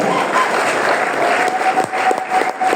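A church congregation applauding to acclaim the Lord after a French-language sermon on the wedding at Cana, sustained dense clapping filling the room, loud and continuous with scattered cheers.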